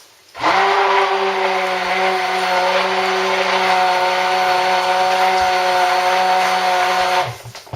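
A stick blender whizzes cold process soap batter in a narrow jug, a loud steady motor whine that starts abruptly, holds for about seven seconds, then cuts off.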